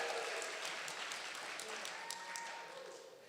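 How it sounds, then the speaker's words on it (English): Wedding-style celebration guests applaud, a soft, fairly distant wash of clapping that holds steady and then fades slightly, with faint voices murmuring underneath. "Give them a round of applause."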